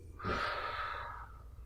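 A single audible breath drawn in and let out during an ab exercise demonstration, a soft breathy rush lasting about a second, close and alone.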